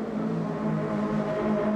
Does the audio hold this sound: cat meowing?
no